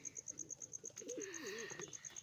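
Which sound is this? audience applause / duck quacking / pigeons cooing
pigeons cooing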